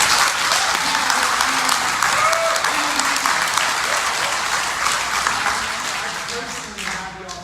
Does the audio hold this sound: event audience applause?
yes